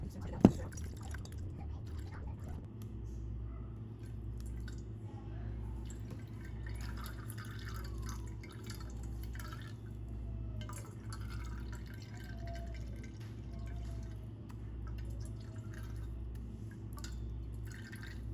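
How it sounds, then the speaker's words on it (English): Ginger and turmeric juice drips slowly from strained pulp, faint scattered drops over a steady low mechanical hum. "we kind of let it sit so it drains all the juice out, and we get rid of the pulp"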